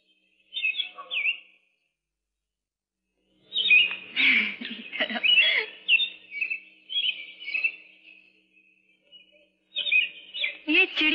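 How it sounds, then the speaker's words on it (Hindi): Pet birds kept indoors chirp and twitter in short bursts, bright high tweets coming in several clusters with quiet gaps between them, fairly close and clear. "ये चिड़िया कब से पालनी शुरू कर दी?"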